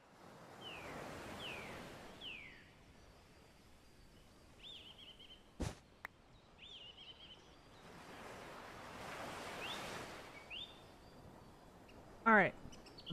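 Gentle ocean waves wash in the game Minecraft, soft swelling surf noise rising and falling in two broad surges, with occasional bird-like chirps and a few sharp clicks over the top.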